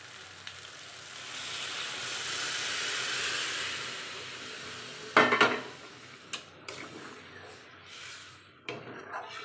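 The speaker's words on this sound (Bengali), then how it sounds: "এবারে দিয়ে দেব চানা সিদ্ধ করা জলটা" Boiled chickpea water hits mutton fat masala frying in a pan, a swelling sizzle and hiss that fades, then sharp clanks and scrapes of a utensil against the pan.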